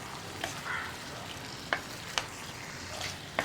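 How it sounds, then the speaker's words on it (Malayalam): Tomato pieces fry on high flame in a pan for a tomato curry, a faint steady sizzle broken by a few sharp clicks and scrapes of stirring. "ഇടയ്ക്കിടയ്ക്കൊന്ന് ഇളക്കി കൊടുക്കുക. ഒരു 3 മിനിറ്റ് ഒന്ന് ഹൈ ഫ്ലെയിമിൽ തന്നെ ഇരിക്കട്ടെ."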